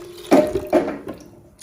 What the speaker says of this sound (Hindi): इसमें ये पानी ऐड करेंगे।